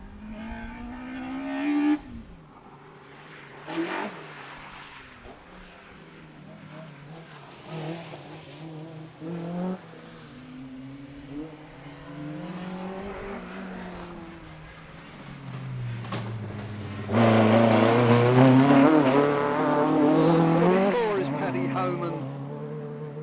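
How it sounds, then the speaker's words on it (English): A 1600cc Subaru Justy racing in a time trial, its engine rising and fading as it passes and then roaring loud and close near the end, under a commentator's voice. "Was from John Deegan's little Subaru 1600cc Subaru Justy"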